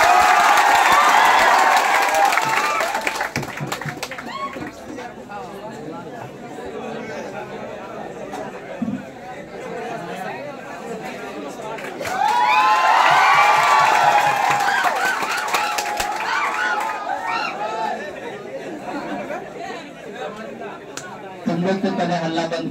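Crowd at a Ghalib Day celebration in Purnea cheers and claps in two loud swells, with lively chatter and voices throughout and a quieter stretch between the bursts.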